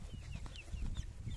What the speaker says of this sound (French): bien souvent j'ai les poules qui sortent au même moment